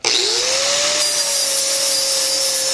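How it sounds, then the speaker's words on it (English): An angle grinder spins up and runs steadily, its motor whine rising then holding a high, even tone while it cleans up a coped fish-mouth joint on steel pipe for a Chevy Nova build, close and loud with no talk. "I'm going to clean everything up with a grinder"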